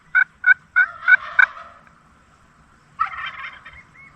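A wild turkey tom gobbles nearby at dawn in a field in Spencerville Wildlife Area, California: five quick, sharp calls in a row, a pause, then a longer rattling gobble.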